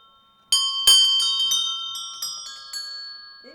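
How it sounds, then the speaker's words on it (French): A small practice carillon rings a quick run of bell strikes, each clear metallic tone leaving long ringing overtones that overlap and slowly fade, close and bright against a quiet background. "Petit carillon d'études."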